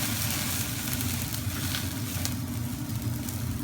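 Armenian shish kebab sizzles loudly and continuously on a very hot cooking surface as it is flipped, a dense steady hiss with faint crackles.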